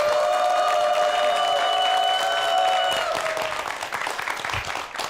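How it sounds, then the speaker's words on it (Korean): Studio audience at a Korean TV startup talk show applauds over a held musical tone, the clapping continuing steadily and growing more scattered once the tone drops away. "큰 박수 부탁드립니다"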